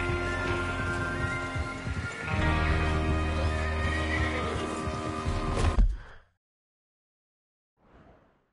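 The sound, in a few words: horse neighing in a western video game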